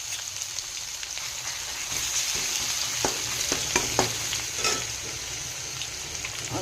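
Ground garlic sizzles in hot oil in a pan alongside ajwain seeds: a steady, close frying hiss with a few soft stirring clicks and no talk.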